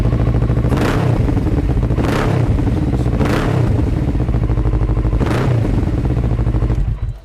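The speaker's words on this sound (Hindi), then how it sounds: "तो ये थी हमारी कावासाकी निंजा 650 की आवाज़।" A 2021 Kawasaki Ninja 650 BS6 idling in neutral, loud and close, steady engine rumble with several sharp throttle blips, then cut off at the end.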